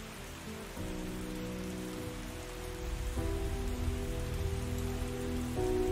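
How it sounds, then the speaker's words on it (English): Steady rain pours down, a dense hiss that swells slightly louder partway through, with no voices. "Day or night, it rains in Dice City."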